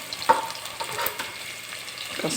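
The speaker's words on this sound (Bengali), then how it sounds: "পেঁয়াজ তেলে দিয়েছি নাড়াচাড়া করছি" Onion and chili being stirred while frying in oil, a soft continuous sizzle broken by a few sharp utensil scrapes and clinks against the pan, close by with no talking.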